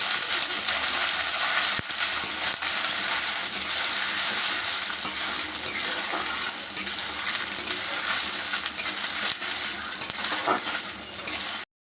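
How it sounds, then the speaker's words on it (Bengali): Coconut pieces frying in hot oil in a wok for a banana-flower dish, a loud continuous sizzle and crackle with scattered stirring knocks, no talk. "এবার এর মধ্যে আমি নারকেলগুলো দিয়ে দিলাম। নারকেলগুলোকে ভেজে নিয়ে আমি তুলে নেব।"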